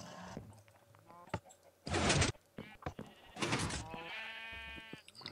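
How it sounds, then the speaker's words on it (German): Colorful sheep in a Minecraft farm area bleat in two loud, separate bursts over quiet game ambience, with a softer higher bleat near the end and no talk. "Und hier unten hat er so seine bunten Schafe,"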